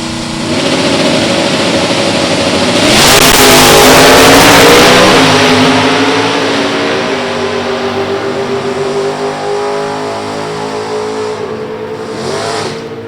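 A 360 cube stock factory Ford Mustang super stock drag car accelerating at a drag strip, a loud sustained engine roar that climbs through gears and stays strong before easing off slightly.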